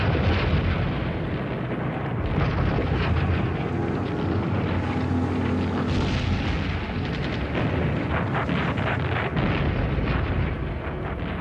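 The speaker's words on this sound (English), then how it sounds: "To their north, the guns of Normandy explode." Artillery guns fire and explode across the Normandy countryside during the June 1944 invasion, a dense, continuous rumble of overlapping booms and blasts that stays loud and roiling throughout.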